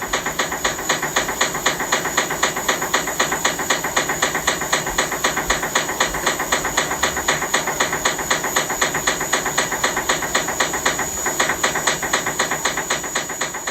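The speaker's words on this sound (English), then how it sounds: "it is the sound of their really weird pipes in their home" Strange noisy water pipes inside a home hiss steadily with a fast, regular ticking pulse that repeats evenly throughout, with no talking.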